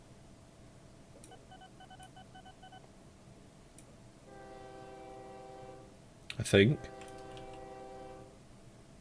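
Trains in the OpenTTD building game give a sustained, horn-like tonal sound among scattered electronic beeps and clicks. A person speaks quietly over it.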